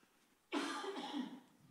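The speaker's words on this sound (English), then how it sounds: "Now you're coughing." A single sudden cough bursts out and trails into a rough, raspy throat sound for about a second, fairly close, heard during a Palm Sunday church service.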